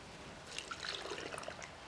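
Water poured into a ranch-style stew of shredded beef cooking on the stove, a soft, brief splashing trickle lasting under two seconds, fairly quiet with no talking.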